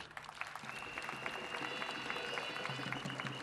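Audience applause for the king of Indénié during a presidential speech in Abengourou, a steady crowd clapping that runs the full length, with faint tonal music in the background.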